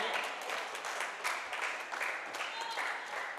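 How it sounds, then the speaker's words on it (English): Spectators at a badminton match, the men's open third-place game at the Canadian Nationals, break into sustained applause, a steady wash of clapping from a crowd at moderate distance. "Crowd giving Jeff some love"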